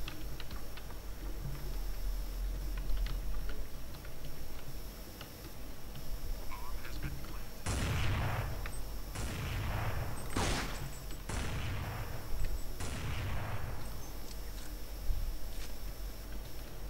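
Pistol fire in Counter-Strike 1.6, about five sharp shots in an uneven burst over a steady background hum.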